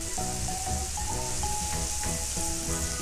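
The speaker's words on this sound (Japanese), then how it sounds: "バターを溶かしながら全体を炒めていきます" Mushrooms sautéing in melted butter in a pan, a steady close sizzle and crackle with faint stirring clinks and no talking.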